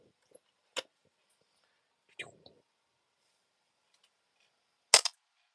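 6mm ARC rifle cartridge cases being decapped give sharp isolated clicks and snaps separated by quiet pauses, with a louder crisp snap near the end and faint soft sounds between.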